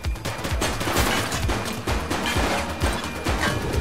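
A suspect shooting in The Precinct, a police game: rapid, loud gunfire in a steady string of sharp cracks, close and continuous for a few seconds.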